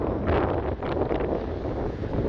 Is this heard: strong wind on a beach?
yes